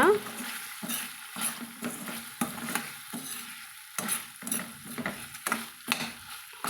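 Chicken frying in oil and being stirred makes a close sizzle broken by repeated spatula scrapes and clinks against the pan, in an uneven rhythm of bursts with short quieter gaps.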